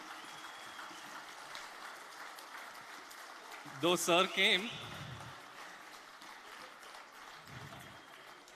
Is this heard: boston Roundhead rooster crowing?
no